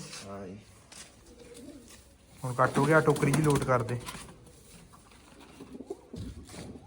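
Pigeons coo in a loud, close cluster of throaty, rolling calls lasting a couple of seconds, with someone talking before and after.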